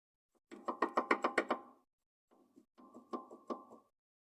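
A car's rear suspension strut mount rocked by hand gives a quick series of about seven sharp metallic knocks, a pause, then a few softer knocks, close and quiet with no talk.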